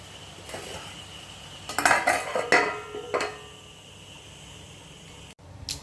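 A spoon clinks and scrapes in a pot of ash gourd curry in a short cluster of close metallic taps while it is stirred, then a quiet pause and a lid settles on top.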